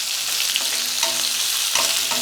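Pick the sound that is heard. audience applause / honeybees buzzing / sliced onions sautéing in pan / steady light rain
sliced onions sautéing in pan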